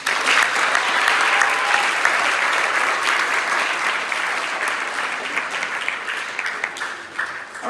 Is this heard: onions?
no